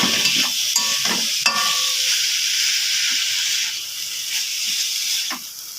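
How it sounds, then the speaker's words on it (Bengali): Chicken sizzles in a pan with spices while a spoon scrapes and stirs it in several knocking strokes, then the frying hiss settles into a steady, close-up crackle. "ভালো করে কষিয়ে নেবো মশলার সঙ্গে চিকেনটা"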